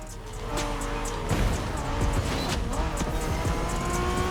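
A Honda NSX engine in a video game revs and roars steadily, shifting pitch as it accelerates, with occasional tire noise; no one speaks.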